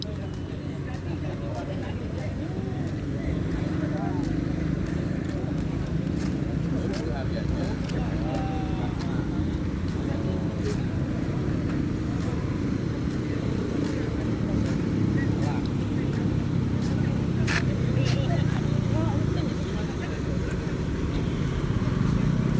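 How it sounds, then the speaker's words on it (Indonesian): Vehicles queue at the entrance of the Padang–Sicincin toll road on its trial opening day, making a steady, dense rumble of idling and creeping engines that runs throughout, with people talking over it. "Nah ini kendaraan sudah antri masuk."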